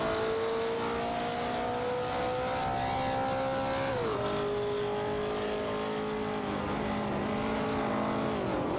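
Mercury Cougar and Ford Capri RS 3100 race cars in an AI racing video game hold steady, loud engine drones that shift pitch together, dropping sharply about halfway through and again near the end.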